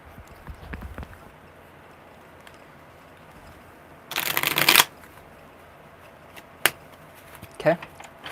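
A brief burst of tarot cards being riffle-shuffled, followed by a couple of soft card taps and light handling sounds in an otherwise quiet room.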